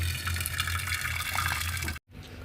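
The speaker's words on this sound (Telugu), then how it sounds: "ఇప్పుడు నేను స్టవ్ ఆఫ్ చేస్తున్నాను నీళ్ళన్నీ వంచేస్తున్నాను" Hot water pours steadily off cooked broad beans, splashing and gurgling for about two seconds, then cuts off abruptly into quiet.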